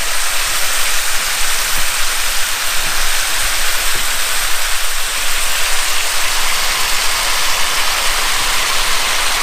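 Ribeye cap steaks and their marinade sizzle loudly in a cast iron skillet, a dense, continuous hiss and crackle heard close up with no voices.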